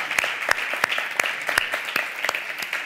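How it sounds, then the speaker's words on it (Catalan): Strong audience applause at a live Catalan comedy show featuring a pretend catch wrestling bout, steady dense clapping with sharp individual claps standing out across the whole stretch, no talking. "Vos un fort aplaudiment"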